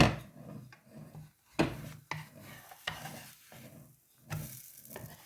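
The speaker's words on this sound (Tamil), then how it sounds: "இப்போ நாங்கள் திருப்பி போடுவோம் மற்ற பக்கம்" Banana and honey sweet frying in a pan as it is flipped, with soft sizzling and several sharp scraping, stirring knocks of a utensil against the pan at irregular intervals.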